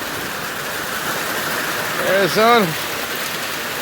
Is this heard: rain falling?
yes